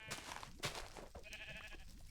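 Sheep in a video game bleating in a jungle setting, several short wavering calls over a busy game background, fairly quiet and not very close.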